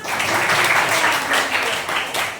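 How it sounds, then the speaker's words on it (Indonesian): Students in a classroom clapping together in a brief round of applause, a dense steady patter of many hands held at even loudness for about two seconds. "Tepuk tangan."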